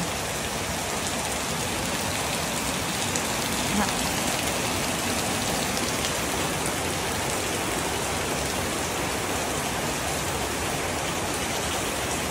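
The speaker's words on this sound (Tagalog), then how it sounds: "Dahil po umuulan po dito sa amin" Steady, dense rain pours down in a constant hiss across the surface, uniform and unbroken for the whole stretch, with no voices heard.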